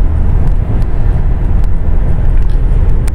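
A 5-speed manual transmission truck rolls along at about 30 on light throttle, producing a steady low rumble of engine and road noise throughout.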